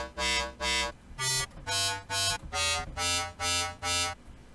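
Screechy, detuned dubstep bass from a squarified wavetable in the Serum synth plays as a run of short, loud, buzzing notes with pauses between them, shifting pitch from note to note.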